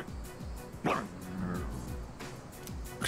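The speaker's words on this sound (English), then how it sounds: "Whoa, that dog sounded angry." An angry stray dog barks in the video game Persona 3 Reload: several sharp, fairly close barks and yips in an uneven rhythm, with a whine-like tone between them.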